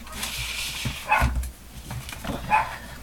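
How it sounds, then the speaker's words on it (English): A dog barks a few times nearby, short sharp bursts separated by pauses, over a quiet indoor background. "one of those barky mornings, I think, barking at anything"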